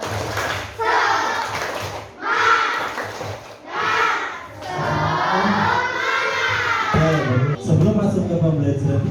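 A school class chants a 'tepuk semangat' cheer in loud unison, their voices bursting out in rhythmic groups punctuated by sharp claps.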